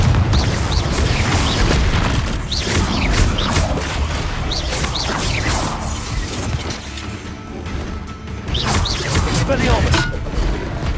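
Confringo blasting spell explosions in Hogwarts Legacy: repeated booming blasts and crashes in a chaotic fight, loud, with a voice calling out spells over them.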